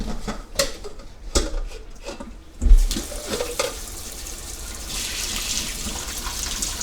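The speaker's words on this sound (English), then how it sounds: "I'm going to dump the water out of this container here." Water from a container is poured into a kitchen sink and down the drain, a steady splashing rush after a few sharp clinks and knocks of dishes and utensils.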